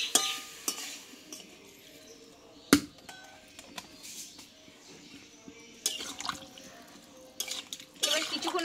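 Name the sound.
hot water poured into pumpkin curry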